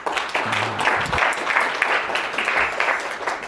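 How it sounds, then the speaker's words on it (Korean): An audience at an economic outlook forum applauds to welcome a speaker, with steady dense clapping throughout. "뜨거운 박수로 모셔보도록 하겠습니다"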